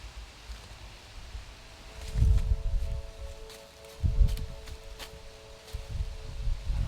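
Low rumbling gusts of wind rise and fall, with leaves rustling softly in the background; two stronger gusts stand out about two seconds apart.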